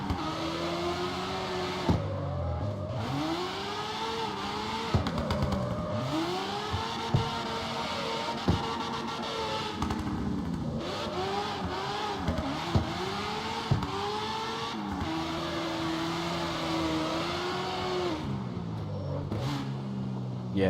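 Game car engine in CarX Street revving steadily through a long drift, pitch rising and falling in repeated sweeps with brief throttle lifts, loud and close throughout.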